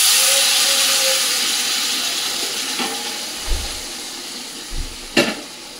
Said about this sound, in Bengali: কষে গেছে, এবার গরম জলটা অল্প করে দিয়ে দেবো